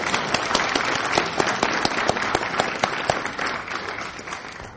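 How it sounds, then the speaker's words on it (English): An audience at a convention panel bursts into lively applause, dense clapping with sharp individual claps standing out near the front, fairly loud and easing off slightly toward the end. "Give yourself an applause"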